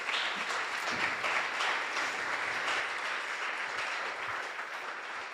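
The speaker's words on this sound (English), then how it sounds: "So one more round of applause for this group" An audience at a live coding conference applauds a presentation group, a dense, sustained round of clapping that gradually fades toward the end.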